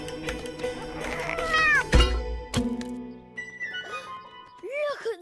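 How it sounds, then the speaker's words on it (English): A cartoon cat meows several times, with curved, wavering cries standing out near the middle and end, alongside thuds, music and other animated sound effects. "Maybe not the cat, Peter."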